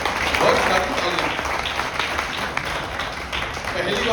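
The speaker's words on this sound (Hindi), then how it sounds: "तो शिवा ग्रुप के लिए बहुत सारी तालियां।" A crowd at a Bajaj Freedom 125 CNG motorcycle launch in Ghaziabad keeps up a dense, steady wash of applause and crowd noise through the whole stretch, loud and close.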